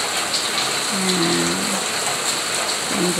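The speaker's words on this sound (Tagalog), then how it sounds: "Kasi maulan." Steady rain falls on a surface nearby, a dense continuous hiss with a couple of faint low calls in the background.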